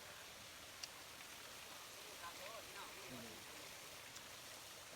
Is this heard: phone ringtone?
no